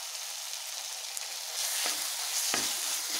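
A ground paste of shallots, cinnamon and cloves is stirred into sautéing tomatoes, with a steady close sizzle that grows fuller partway through and a few scraping stirs of a spoon.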